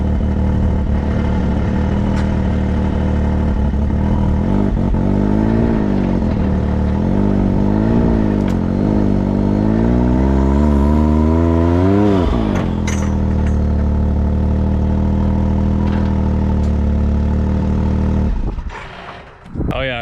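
A Cummins truck engine revs hard and steadily while pulling a tree stump out of the ground, its droning pitch rising and falling through repeated surges before dropping off abruptly near the end.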